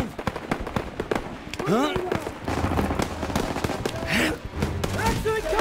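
Rapid bursts of gunfire and sharp cracks crowd together in Call of Duty: World War 2 gameplay, with a voice speaking briefly amid the shooting.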